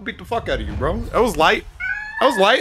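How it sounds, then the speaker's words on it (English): Meowing cat sounds mixed into close, excited male chatter during a Twitch Rivals punching bag stream, a few short meows cutting through the talk. "Well, yeah, but he was meowing, bro"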